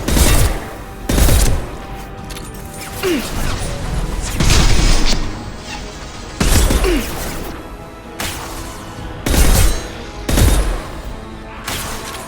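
Gunfire is aimed at fan controls in the video game Mass Effect 2, loud heavy blasts and crashes every second or two between lulls of background rumble.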